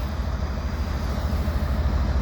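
A CSX W001 geometry train led by locomotive 5403 rolls past as a steady, loud low rumble and rail roar, continuous and unbroken, with no talking.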